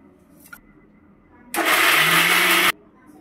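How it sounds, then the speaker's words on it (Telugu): A kitchen mixer grinder whirs loudly in one burst of about a second, grinding carrot pieces for carrot halwa, then cuts off abruptly with quiet room sound on either side. "ఇంకేమన్నా పెద్ద ముక్కలు ఉంటే వీటిలో చూసుకొని మళ్ళీ రెండో రౌండ్లో మిక్సీలో వేసేసుకోవచ్చు అనమాట"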